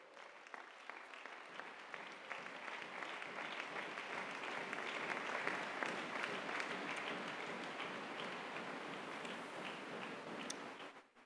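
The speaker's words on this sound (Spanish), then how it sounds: "este aplauso fuerte para Él" A church congregation claps during a sermon, applause swelling steadily to a full, sustained round before cutting off, moderately distant and alone without talk.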